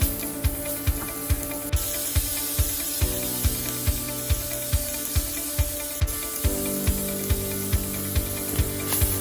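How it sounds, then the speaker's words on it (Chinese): Minced meat stir-fried in a wok after ginger, shallot and chili paste sends up a steady, close hiss of sizzling, punctuated by evenly spaced clicks and taps about twice a second. "爆香过后就可以加入我们的肉碎，继续的爆香，爆至肉碎的颜色变成白色。"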